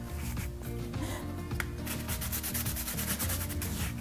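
A drying paintbrush scrubs paint onto card in rough, rhythmic strokes, a close scratchy rubbing that repeats steadily with no voices.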